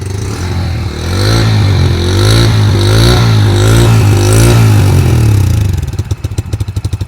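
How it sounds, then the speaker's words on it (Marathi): Bajaj Freedom CNG motorcycle engine heard at the exhaust silencer, revving up loud and close with a throbbing low drone, holding for several seconds, then dropping back to an uneven, pulsing idle. "आपण या गाडीची जी एक्झॉस्ट सायलेन्सर कसा आवाज करतो आहे हे पाहूया"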